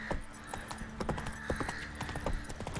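Roach, a horse in the video game The Witcher 3, galloping: quick, rhythmic hoof clip-clops with brief snorting, moderately close and fairly faint, with no voices.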